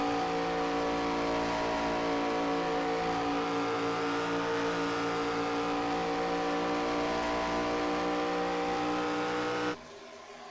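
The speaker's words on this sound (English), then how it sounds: "I do still like hearing the engines here" Race car engines drone at high speed at Michigan in a loud, sustained, steady roar that holds for about ten seconds, then cuts off abruptly.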